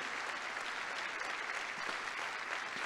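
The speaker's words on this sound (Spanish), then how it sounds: "Dale fuerte ese aplauso a Dios." A church congregation claps steadily during a sermon, a continuous wash of applause heard at a moderate distance.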